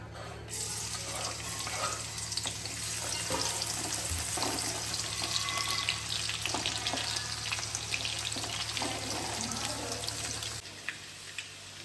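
Chopped garlic fries in hot oil for dry cabbage manchurian, a steady close sizzle with crackles and occasional stirring clinks running nearly twelve seconds before cutting off abruptly near the end.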